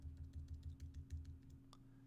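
Arrow keys on a computer keyboard tapped in a steady run of soft, close clicks, about a dozen presses over two seconds, under a constant low hum.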